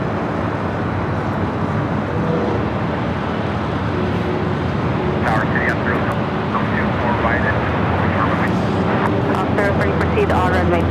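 An American Airlines Boeing 737-800 from Austin arriving on the north side at LAX, its steady engine roar continuous and loud with broadband rumble, mixed with airport background noise and occasional faint higher tones.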